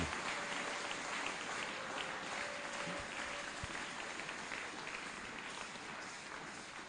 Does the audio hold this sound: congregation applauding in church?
yes